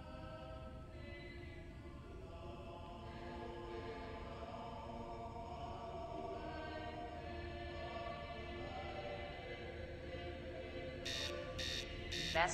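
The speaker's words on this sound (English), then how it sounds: "Master alarm, collision imminent" A master alarm in a space survival video game blares as pulsing tones near the end, over a steady hum of game ambience and tonal drones throughout.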